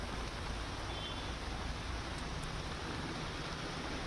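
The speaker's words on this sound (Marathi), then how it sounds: "मात्र पाऊस अजूनही सुरू असलेला दिसतोय." Steady rain falls over Mumbai during a heavy downpour, a constant soft hiss of drops with no breaks, distant and fairly faint throughout.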